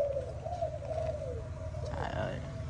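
A Malaysian spotted dove coos in a steady repeated rhythm, moderately close, over low background hum and faint other bird calls.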